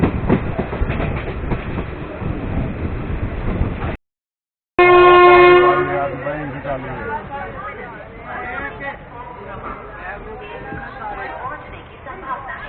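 A train rolls through the Haridwar railway station yard with loud rumbling and rhythmic clickety-clack. A brief gap is followed by a strong horn blast, and people talk and murmur nearby.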